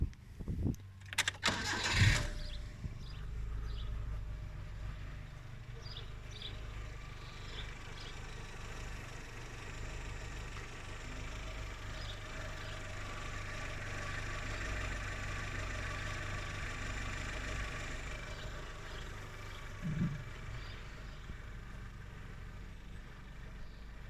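A Proton Saga "Black Knight" Edition car engine cranks briefly and catches, then settles into a steady, fairly loud idle that runs on alone, with a small blip near the end.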